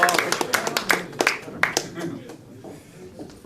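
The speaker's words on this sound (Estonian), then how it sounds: "Teeme aplausi parimatele." Scattered hand claps from an audience at a sports awards ceremony honouring the best local athletes, a few sharp claps early that thin out and fade into murmuring within a few seconds.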